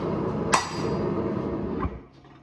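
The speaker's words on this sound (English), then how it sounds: "I'll set it on the anvil, square up my initials, give it a good hit" A hammer strikes a steel stamp to sign a handmade Damascus hunting knife on an anvil, one sharp ringing blow that decays, followed by a softer second knock, close and loud with no talking.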